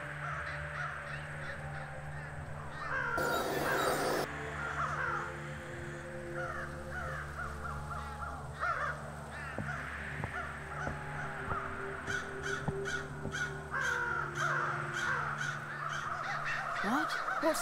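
Crows caw repeatedly in a waste-dump area in the adventure game The Night of the Rabbit, harsh calls rising and falling over a low ambient game backdrop, with a brief burst of noise early on.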